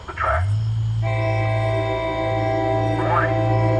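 A SEPTA train, number 6533, sounds a long, loud, sustained horn blast while passing the Lower State Road grade crossing, over a steady low rumble of the train and brief rattling bursts at the start and near the end.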